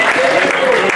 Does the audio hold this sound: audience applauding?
yes